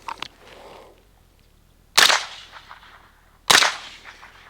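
Suppressed rifle fired with a JMac Banka 45K suppressor and steel-case 115 grain supersonic ammo: a faint short pop at the start, then two sharp, loud cracks about one and a half seconds apart, each with a brief fading tail.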